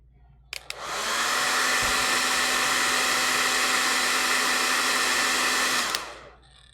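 A hair dryer switches on with a click, blows a steady loud rush of air with a whining motor tone for about five seconds, then cuts off and winds down, no talking.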